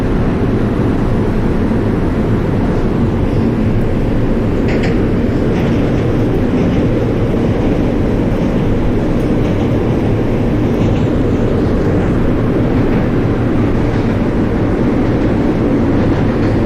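An NYC Subway R142 train on the 4 line toward New Lots Avenue in the OpenBVE simulator, with a steady loud rumble of running motors and wheels continuing throughout with no talk.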